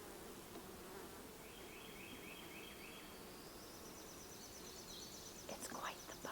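Honey bees swarm around a hive on a homestead apiary, producing a soft, steady buzzing drone with a few brief higher chirps near the end.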